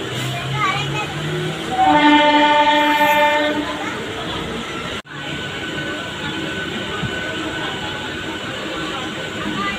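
A local train running from Digha to Howrah rumbles along steadily, its horn sounding a long harmonic blast for a few seconds before the rail noise carries on, with voices murmuring aboard.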